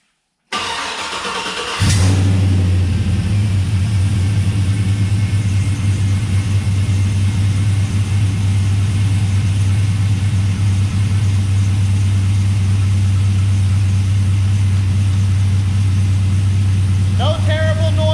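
An untested, freshly installed engine taken from a truck cranks briefly, catches, and settles into a loud, steady low idle that runs on without change.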